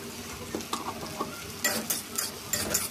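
Food frying in a pan with chili powder added is stirred, giving a soft steady sizzle broken by several scraping, clinking strokes of a utensil against the pan, close by.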